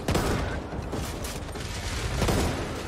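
Gunfire in the video game Back 4 Blood, a rapid fusillade of shots with mechanical clicks and rattles, fairly close and continuous over a few seconds, without talking.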